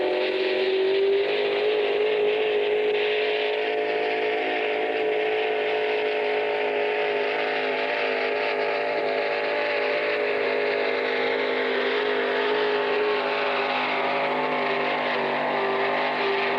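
A vintage pulling vehicle's engine roars steadily down the track in a loud, unbroken drone with a sustained tone that barely changes for the whole stretch.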